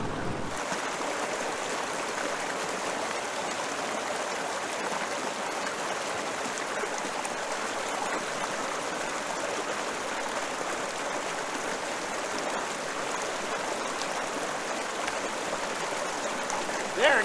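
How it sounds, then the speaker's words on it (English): River rapid at Salt Springs forcing air out from under a rock, a steady, dense rushing and hissing of water, loud and close, continuous throughout without pause. "There's a big rapid on the other side. I think it's pushing a lot of air underneath the rock, and it's pumping out."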